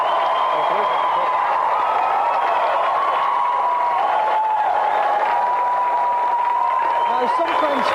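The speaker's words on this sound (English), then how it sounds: "Round of applause, please, for tonight's special guest," Studio audience applause and cheering for special guest Tony Slattery on a retro TV gaming show, a steady, dense roar of clapping that holds at full level throughout.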